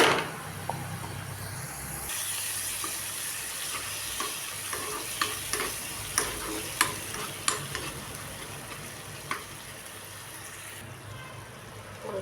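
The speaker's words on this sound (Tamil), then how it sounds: "பச்சை வாசனை போகிற வரைக்கும் வதக்கணும்." Ground onion and tomato paste sautéing in a hot pan, a steady close sizzle with repeated scraping taps of a spoon stirring through it, loud and continuous.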